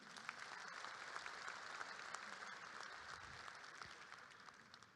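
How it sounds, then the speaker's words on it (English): Sustained applause from a crowd at a technical college commencement ceremony, a dense continuous patter of many hands clapping, steady and distant-sounding throughout. "Please give them a round of applause"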